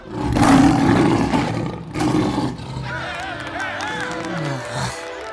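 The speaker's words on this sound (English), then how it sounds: "Samson let out a mighty roar and silenced the snickering crowd." A lion gives a deep, loud roar in a story about a lion enclosure where people gather, first one long bellow then a second, followed by a murmuring crowd and laughter.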